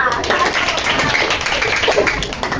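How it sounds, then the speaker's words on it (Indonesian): A classroom of students claps for a student group after its presentation, a busy, continuous patter of hands throughout with voices mixed in. "tepuk tangan dulu untuk kelompok 4"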